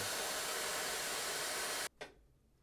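A hair dryer blows loudly and steadily on a vintage Kenner Star Wars action figure, then cuts off abruptly near the end, leaving a brief faint rustle before near quiet.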